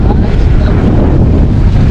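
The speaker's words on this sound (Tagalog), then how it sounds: "medyo malakas-lakas ang hangin" Strong wind buffets the microphone in a constant, loud roar, with a low rumble that fills the whole clip.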